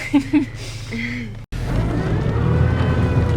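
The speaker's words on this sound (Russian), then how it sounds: "Нас так заносит на льду." A car drives along an uncleared icy road and slides on the ice, with a steady low engine and tyre rumble that continues close and loud after a brief drop. A voice talks briefly at the start.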